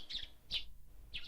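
Birds chirping at dawn, three short bright calls spaced roughly half a second apart, faint and somewhat distant, with no other sounds around them.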